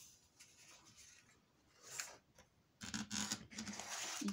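A fold being marked and creased in paper for a homemade advent calendar. Soft scraping and rubbing strokes come close and faint at first, then grow louder and denser toward the end.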